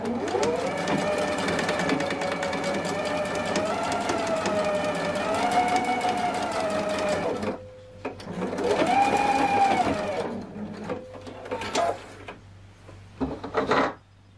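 Sewing machine stitching a dress sleeve, running in a steady whirring hum for several seconds, pausing, then starting again in shorter runs with faint clicks between.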